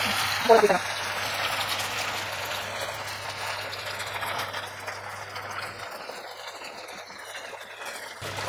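Tofu frying in hot oil sizzles and crackles steadily and fairly close, with a voice speaking over the bubbling.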